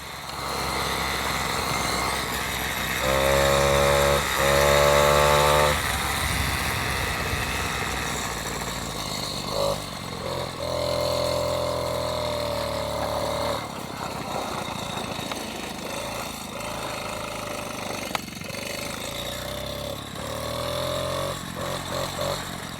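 A motorized bicycle fitted with a Peugeot 103 moped engine runs nearby, a loud buzzing two-stroke drone that rises and falls with throttle changes over a rough, continuous mechanical hum.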